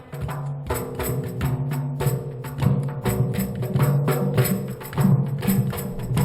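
Water drums are played in a busy rhythmic pattern, deep hollow thumps layered with splashy hits, steady and fairly loud throughout.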